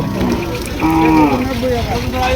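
Cattle lowing at a village livestock market in Comilla, one deep drawn-out moo rising over a busy open-air background of murmur and rumble, close and fairly loud.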